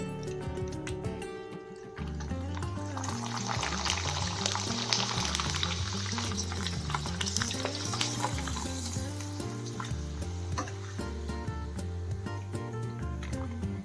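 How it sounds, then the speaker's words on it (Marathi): Homemade jowar papad deep frying in hot oil, a dense, bubbling sizzle that swells after a brief quiet start and stays loud and steady, with background music running underneath. "आता तुम्हाला मी तळून दाखवते पापड फ्राय करत आहे"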